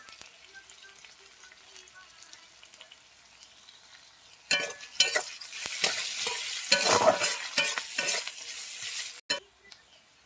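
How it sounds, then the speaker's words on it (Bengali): Onion and green chilli hitting hot oil in a pan: a few quiet moments, then a loud burst of sizzling that flares and crackles for several seconds while being stirred, fading near the end. "তেল গরম হয়ে গেছে পেঁয়াজ দিয়ে দেবো কাঁচা লঙ্কা দিয়ে দেবো"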